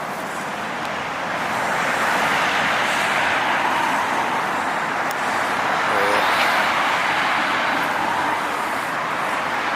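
Steady traffic from cars circling a roundabout at night, a continuous broadband roar that swells slightly as vehicles pass close by, with a brief voice murmuring under the noise.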